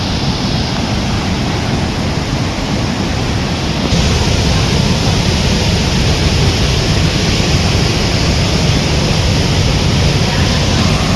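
High-pressure river water rushes in a monsoon flood, a loud, dense, unbroken roar that fills the whole stretch and grows slightly stronger partway through.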